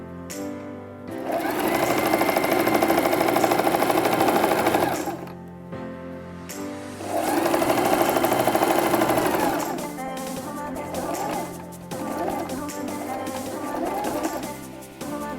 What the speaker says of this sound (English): let down the presser foot and start sewing